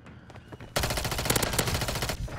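Automatic gunfire in a first-person shooter, a dense rapid stream of loud shots starting suddenly after a quiet moment and lasting over a second before tapering off.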